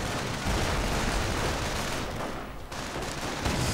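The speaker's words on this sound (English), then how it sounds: "A bit of fighting there. Lots of automatic fire." Dense automatic gunfire and bursts in a WWII strategy video game battle, a continuous loud rattling wash of shots with explosive rumble throughout, no talk.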